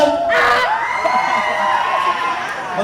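Students of the STEM strand at a school Nutrition Month assembly shout and cheer loudly together, a dense, sustained crowd roar with high whoops that holds at full volume throughout.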